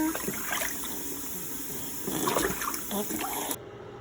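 Water splashes and trickles softly during a child's bath, a low, uneven wash of liquid sounds heard close under an adult's speaking voice, cutting off abruptly near the end.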